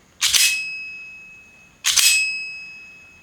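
A Marui Hi-Capa airsoft pistol gives two sharp metallic strikes about 1.6 seconds apart, each leaving a clear, sustained high ring that lingers before fading, close and loud with no talking.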